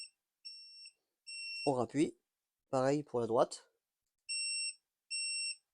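A Segway electric scooter's hazard and turn-signal warning emits repeated, evenly spaced electronic beeps in short pairs, clear and close, with someone speaking French between the bursts.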